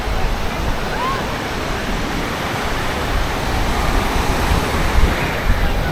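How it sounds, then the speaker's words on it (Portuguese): Sea waves wash continuously at Jurerê beach in Florianópolis in summer, a loud, steady roar of surf with gentle swells and no break. "Que beleza esse movimento na água"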